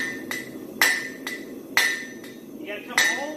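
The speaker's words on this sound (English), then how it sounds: "hang that corner right on that corner of my anvil and hit straight into it" Sharp metallic hammer blows on a horseshoe held against the corner of an anvil while a concave hind shoe is shaped into a front, about seven ringing strikes in an uneven rhythm, close and loud, some heavier than others.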